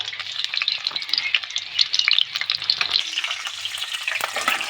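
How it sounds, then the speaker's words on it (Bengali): Steady, bright sizzling of large-cut onions frying in hot mustard oil, with occasional stirring scrapes, continuous and close, no talking. "তো পেঁয়াজ লাল করছি,"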